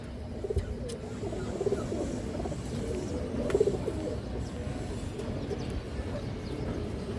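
Several pigeons, including a female, coo in low, rolling bursts against a steady background hum, with no talking.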